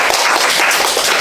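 A classroom of students claps for a classmate, a steady, loud wash of applause filling the room without pause for about a second.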